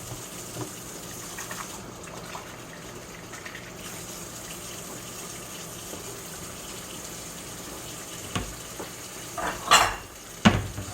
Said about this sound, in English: Let me get a bowl for this fat.